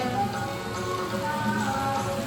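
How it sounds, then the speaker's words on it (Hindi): Steady rain pours down outdoors during a temple festival in Goa, a dense continuous hiss of drops striking surfaces, fairly close and even in loudness, with no voices. "बारिश देखो कितनी आ रही है।"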